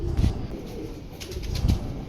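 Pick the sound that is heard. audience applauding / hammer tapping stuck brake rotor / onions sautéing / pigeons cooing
pigeons cooing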